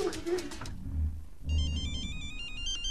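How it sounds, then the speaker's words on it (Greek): A mobile phone rings with a bright, repeating electronic ringtone melody that starts partway through and continues steadily, following a stretch of talk and low background noise. "ξύπνα παιδί μου το κινητό"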